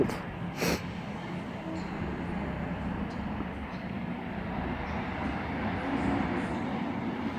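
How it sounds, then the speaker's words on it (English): A Northern passenger service to Hazel Grove pulls out of Stockport station on the West Coast Main Line, a low continuous rumble with rolling wheel noise, a sharp squeal early on and faint clicks over the rails. "there goes the other 1435 northern service to Hazel Grove, now departing on its way"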